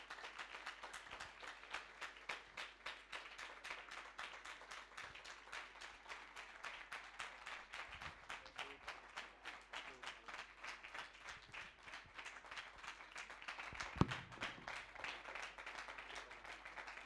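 Sustained applause from a church congregation at a Sunday service, a dense steady patter of many hands clapping at even loudness throughout, with no voices standing out.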